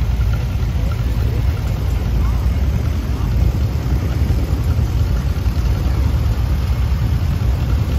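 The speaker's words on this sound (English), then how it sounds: "He's got a 48 John Deere Model M." Engine of a 1948 John Deere Model M tractor running at an antique tractor and steam engine show parade, a steady loud low rumble throughout with continuous broadband noise and no clear breaks.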